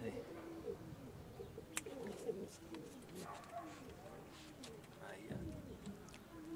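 Pigeons coo in a loft of Spanish conquest pigeons, several soft throaty calls repeating at uneven intervals over faint background noise, with someone talking quietly at times.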